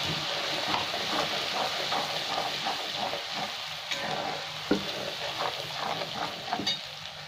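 Ginger-garlic paste and a fried spice mix sizzle in a pan for chicken korma, a loud, continuous frying hiss with light stirring scrapes and no voices.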